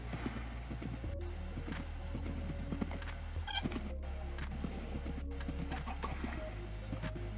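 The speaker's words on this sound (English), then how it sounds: "So, yeah, I got a horse." Horse in a Minecraft-style game, steady clip-clop hoofbeats trotting continuously with brief snorting and neighing sounds over background game ambience.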